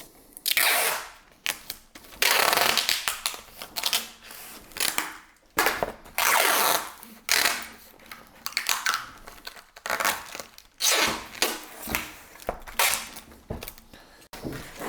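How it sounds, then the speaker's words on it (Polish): Orange packing tape being pulled and pressed onto a cardboard box in repeated loud, crackling rips and rustles, close up, with short pauses between strips. "Mam tutaj taśmę klejącą, pomarańczową i żeby kartonik nam się nie otwarł, skleimy go"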